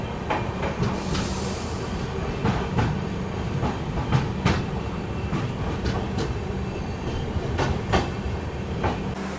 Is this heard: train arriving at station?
yes